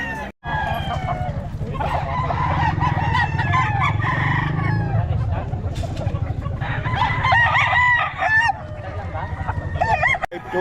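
Roosters crow repeatedly at a crowded rooster market in the Philippines, loud cock-a-doodle calls overlapping with clucks, honking fowl and background chatter close by.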